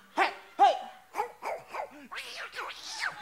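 A game-show contestant imitates a dog with his voice, giving a quick run of short, close barks and yips followed by a whiny, wavering howl.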